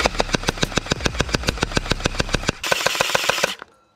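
A gel blaster fires in an accuracy test, a rapid evenly spaced burst of sharp mechanical shots close by, then a brief louder whirring stretch before it stops abruptly.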